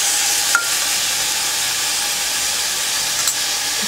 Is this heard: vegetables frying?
yes